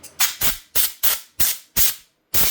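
Seven short, sharp bursts of compressed air hissing from a compressor while cleaning an old weed eater, each cut off quickly, with brief gaps between them, loud and close.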